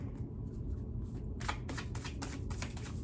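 Oracle cards shuffled by hand in a quiet room, a soft riffle of rapid papery flicks that starts faintly and grows into a busy, close burst of card noise with no talking.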